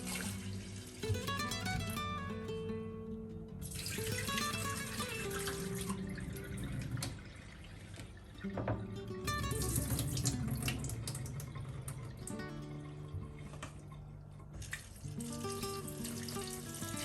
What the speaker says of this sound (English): Now turn to add some water to the potatoes.